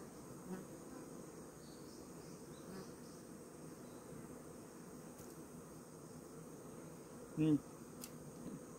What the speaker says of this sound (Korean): 벌이 새카맣고 토종도 약간 노랗고 두 종류예요.